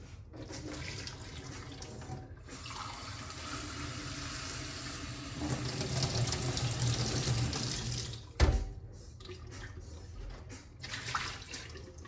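Cold water runs from a kitchen tap in a steady, soft stream, with a brief clatter partway through and faint room noise around it.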